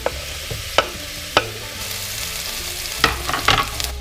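Onions, garlic and ginger sizzle steadily in coconut oil in a pot over medium-low heat, a continuous frying hiss broken by several sharp clatters and stirring knocks.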